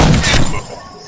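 A single loud, close gunshot from a rifle in a shooter video game lands a headshot, with a sharp burst that rings out and fades within a second.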